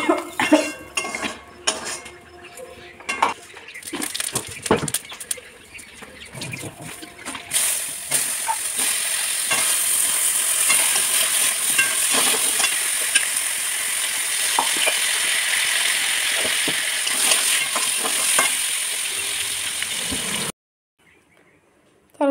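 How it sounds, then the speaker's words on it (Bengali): A vegetable curry sizzles and fries in a pan on a home stove, stirred now and then with a few clinks, settling into a loud, steady hiss from the middle onward before cutting to silence at the end. "আমি এই তরকারিটা চাপাবো চাপিয়ে তখন ঢাকা দিয়ে খেয়ে নেব"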